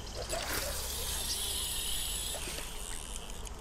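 Steady rushing river water in Red Dead Redemption 2, a constant broad hiss of flowing current with faint insect chirps over it, no voices.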